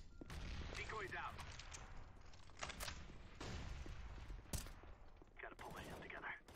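Decoy grenade in Counter-Strike: Global Offensive on the Nuke map, spitting out rapid bursts of fake gunfire, with sharp cracks and rattling volleys sounding close over a steady game background.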